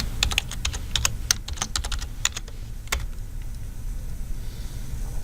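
A computer keyboard clatters with quick, close keystrokes as a username and password are entered for a git branch push, in brisk bursts with a short pause, then lighter taps.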